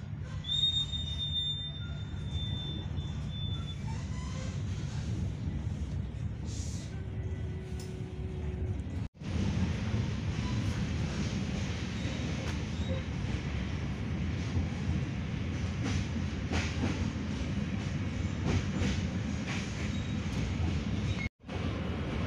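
A train rolls steadily toward Cibeber station in Java, heard from on board as a continuous low rumble of wheels and carriage noise, with a brief whistle early on.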